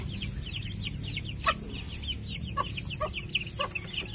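Native chickens on a Philippine farm that also breeds Muscovy ducks cluck and chirp in rapid, repeated bursts, with louder calls from several birds over a steady background hum.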